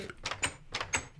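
A door closing in the Minecraft video game during a Survival Games match: a few short, quick wooden clunks in a brief burst, fairly close and distinct.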